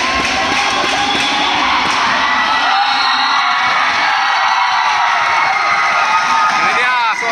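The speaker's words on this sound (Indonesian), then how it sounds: "Ini dia sorakan peminat-peminat Fajar." Supporters at a school handball match between SMK Taman Fajar and SMK Sandakan cheering and shouting together in a continuous loud roar, close and steady, with whoops and children's voices throughout.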